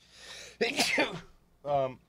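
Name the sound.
sneeze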